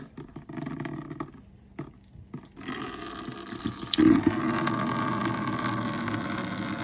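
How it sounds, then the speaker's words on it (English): Distilled water drains from a car radiator, first faint trickling, then a steady splashing gush that starts abruptly and keeps running evenly to the end. "The final drain with the distilled water."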